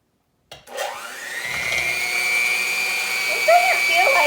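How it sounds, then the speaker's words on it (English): An electric mixer whisking meringue mixture starts up after a short silence, then whirs with a steady, high-pitched motor whine as the whisk spins on low, with a few faint clicks of the bowl near the end. "Mix with an electric mixer or stand mixer on whisk or paddle attachment."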